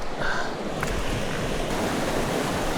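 Small river stream flowing near its headwaters in New Hampshire, a steady rushing babble of water with some wind noise, continuous and close, no talking.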